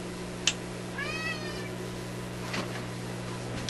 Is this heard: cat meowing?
yes